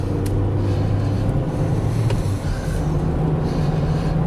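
Interior drone of a Dacia Logan driving after repair, a steady low engine and road rumble with no knocks or rattles, constant and fairly loud throughout.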